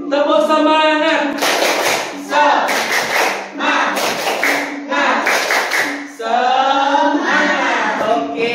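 A group of children at school performs a rhythmic clapping chant, with loud sung or shouted syllables alternating with bursts of sharp, unison hand claps in a steady, repeating pattern, close and energetic.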